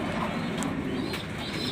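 Pigeons in a loft waiting for food give soft, low cooing over a steady background hum, a brief and faint murmur from several birds.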